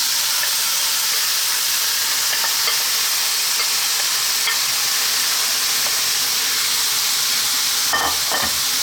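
Curry mixture for a quick chicken curry frying in a pan over lively heat, giving a steady loud sizzle and hiss that holds throughout, with a brief clatter of stirring near the end.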